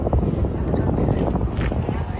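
Steady blustery wind buffeting the microphone, a low rumbling roar that continues throughout with faint voices underneath.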